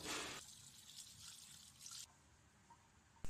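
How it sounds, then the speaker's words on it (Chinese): Running water splashes and trickles over a prepared sea bass being rinsed in a sink, a fairly faint flow with a louder burst at the start and a sharp knock near the end. "把已经处理好的鲈鱼再洗干净一下"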